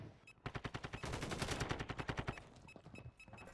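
Automatic gunfire in Call of Duty Warzone on Rebirth Island, rapid rhythmic bursts of shots firing in quick succession, fairly near, with short pauses between strings of rounds and no talk.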